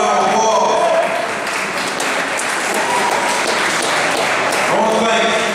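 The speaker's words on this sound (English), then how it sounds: "You deserve a round of applause." Applause at the Music City Liberty Festival, a steady patter of outdoor clapping from a crowd, with a voice speaking over it at the start and again near the end.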